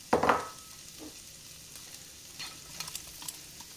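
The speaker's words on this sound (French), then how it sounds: "j'ai pris une poêle, j'ai mis un peu de beurre, j'ai mis un peu d'huile, je vais faire revenir la totalité" Onions and shallot frying in a pan of butter and oil: a sharp clatter as they drop in, then a steady low sizzle with occasional scrapes of stirring, close by and without talk.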